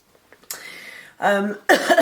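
A few harsh throat-clearing coughs from someone with a cold burst out close to the listener, separated by brief pauses.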